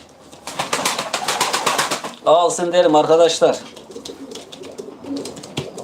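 Antique-breed pigeons kept for sale coo and murmur close by, their throaty calls mixed in with someone talking loudly over them.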